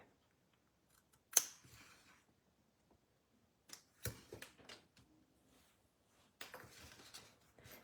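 Scissors cut paper during stamp-set crafting, giving a few crisp, quiet snips separated by short pauses in an otherwise hushed room.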